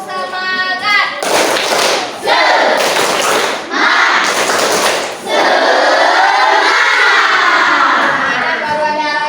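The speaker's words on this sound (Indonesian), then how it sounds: "Tepuk semangat." Schoolchildren in a classroom dance lesson perform the tepuk semangat clapping chant, with loud bursts of rhythmic clapping and shouted chanting separated by brief pauses, ending in a long sustained group shout.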